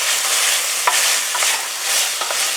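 Onion and garlic hit a hot skillet, producing a loud, dense, steady sizzle up close with a few light spoon-stirring clicks throughout, no talking.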